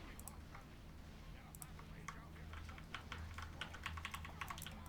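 Steady fast typing on a computer keyboard sits quietly in the room, a continuous run of soft clicks under a low hum, with someone talking over it.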